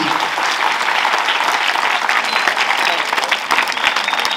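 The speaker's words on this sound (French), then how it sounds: "On applaudit." Audience applause at a school emulation ceremony for Groupe Scolaire Afric Elite fills the scene, dense and steady clapping from a large crowd that keeps going without a break.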